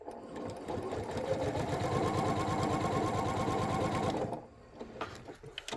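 A sewing machine runs steadily through quilt pieces for about four seconds, its rapid even stitching rhythm close and clear, then stops abruptly with a few faint handling noises after.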